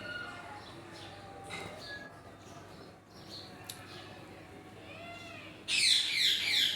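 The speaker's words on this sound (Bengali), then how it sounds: "এদিকে আবার পাখি ডাকছে" Birds chirp and call intermittently against a steady outdoor background in the Sundarbans forest, with a louder burst of high, busy chirping near the end.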